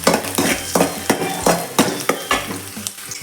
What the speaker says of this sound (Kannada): ಸ್ವಲ್ಪ ಈರುಳ್ಳಿ ಹಾಕಬೇಕು, ಫ್ರೈ ಮಾಡಬೇಕು